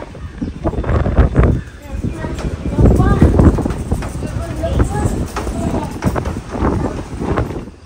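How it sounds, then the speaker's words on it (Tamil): Strong wind gusting through a storm after a night of continuous rain, a steady broad rushing roar buffeting the microphone in surges, loud and close throughout. "காத்து தான் அடிக்குது புசு புசு புசுன்னு."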